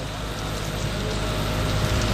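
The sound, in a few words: rain falling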